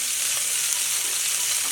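Chicken shashlik skewers sizzle steadily in a hot pan, a dense continuous frying hiss with faint crackles and no voices.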